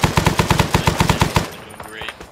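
Rapid automatic gunfire in the military shooter Arma 3, a burst of about a dozen loud, evenly spaced shots lasting over a second, then fading into quieter ambience with faint distant sounds.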